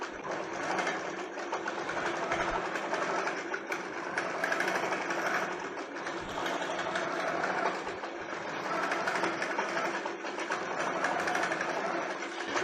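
Quilting machine run by QCT 6 software stitching an edge-to-edge pattern on a hoop frame, a fast continuous mechanical whirring and rattling that stays steady and fairly loud throughout, with no one talking.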